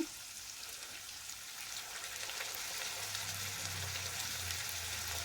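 Garlic and green peas sizzle steadily in hot oil in a pan, a continuous close frying hiss that grows slightly louder and fuller partway through, with no talking.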